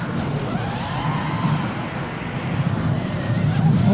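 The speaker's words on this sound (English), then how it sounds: "garbage truck's going" A garbage truck rumbles past with a steady low engine drone and road noise, moderately loud and continuous, heard outdoors near a small baseball field.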